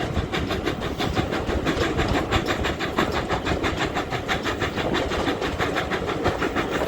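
Heritage train on the West Somerset Railway running between Minehead and Bishop's Lydeard, a steady clickety-clack of wheels over rail joints with a continuous rumbling engine and carriage noise, close and even throughout.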